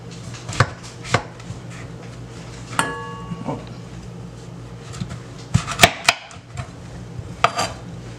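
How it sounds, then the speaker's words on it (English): A knife cutting breadfruit into pieces on a board: sharp chops and thunks at an irregular pace, close and clear over a faint background hum. "So I'm going to cut the breadfruit in half again, and then cut it in half again"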